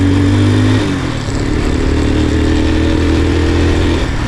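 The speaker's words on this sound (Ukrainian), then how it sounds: "Мопед за таку сумму поїхав." A small Alpha moped engine, running again after a seized motor was repaired, drones steadily up close while being ridden, its pitch dropping briefly near the start before holding an even, buzzing hum.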